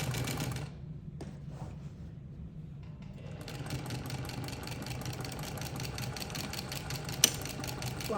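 A sewing machine stitches flange binding around a quilt, giving a steady close mechanical whir and rapid needle chatter that starts after a brief quiet pause and runs continuously at moderate volume.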